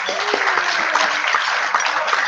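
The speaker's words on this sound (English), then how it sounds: "So round of applause to all of them." Applause from guests at an investor information dinner, a steady wash of clapping filling the whole short stretch at moderate loudness with no voices over it.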